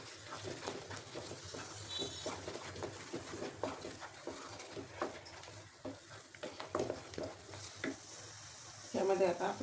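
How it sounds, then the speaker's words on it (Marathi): Spice paste for katachi amti being sautéed and stirred in a hot pan: a steady oily sizzle with repeated scraping strokes of the spoon, getting louder and busier in the final second. "आणि वाटण छान परतू द्यायचं."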